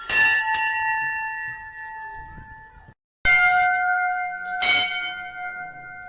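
A temple bell of the Khandoba temple rings out loudly several times, each strike clanging and ringing on with a long sustained tone, with a brief silent gap partway through.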